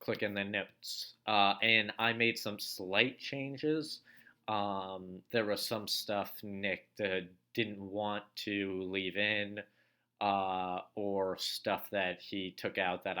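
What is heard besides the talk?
None of the usual background noises is heard.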